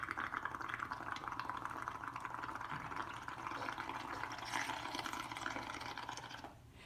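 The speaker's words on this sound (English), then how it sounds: "I'm just going to start making bubbles" Steady bubbling and gurgling from air blown into liquid in a cup, continuous and close, trailing off at the end.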